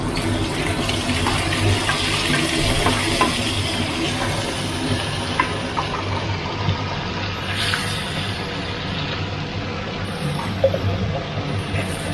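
Mixed vegetables and fresh shrimp stir-frying in a wok over high heat, a loud continuous hiss and rush of sizzling that holds steady throughout, with no one talking.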